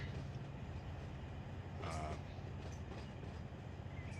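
Train cars clank and rumble through slack action in the Run 8 train simulator game, with a low, steady rolling drone and one sharp metallic bang near the middle.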